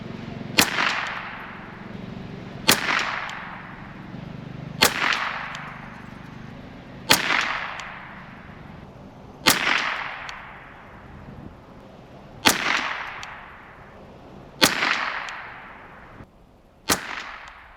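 Eight sharp rifle shots from a scoped Ruger 10/22 fired at cans, evenly spaced about two seconds apart, each a crisp crack with a short ringing tail, with no talking between them.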